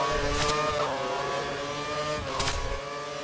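Racing cars at the Spoon corner in Japan: engines roar past loud and near, with two distinct passes whose pitch sweeps downward as they go by, over a constant engine drone.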